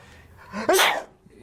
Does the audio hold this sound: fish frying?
no